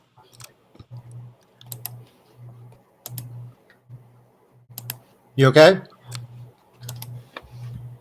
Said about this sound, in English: you just had a weird clicking sound for a second there. Yeah, my push to talk key was stuck.